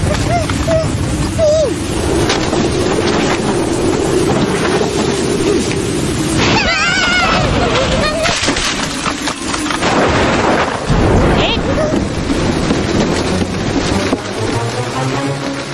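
Heavy rain pours with rumbling thunder in a cartoon, a dense, loud, continuous wash of noise with low rolling swells throughout and brief sharper bursts midway.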